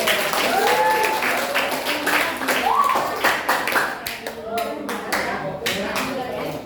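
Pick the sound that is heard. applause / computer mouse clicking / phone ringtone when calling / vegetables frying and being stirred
applause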